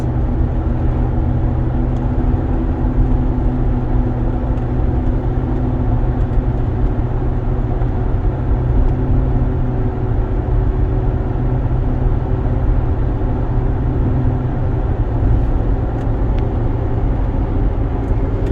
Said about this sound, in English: the car runs and drives very well. Driving up this hill has good power.